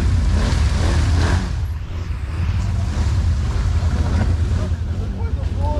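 A quad bike without four-wheel drive is driven flat out through a dry off-road park, its engine a loud, steady close roar mixed with wind buffeting, while people shout excitedly over it.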